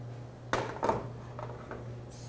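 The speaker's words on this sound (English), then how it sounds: "now what I'm going to do is I spray my muffin pans real good" Several short hissing bursts of cooking spray onto muffin pans for cornbread, close and quick, over a low steady hum in a quiet room.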